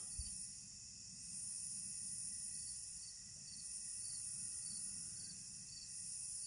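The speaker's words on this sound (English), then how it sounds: "Nice quiet night out here. You can hear the cicadas." Cicadas or similar insects keep up a continuous high-pitched drone on a quiet night by a river bank, steady and moderately faint, with a low rumble beneath and no talking.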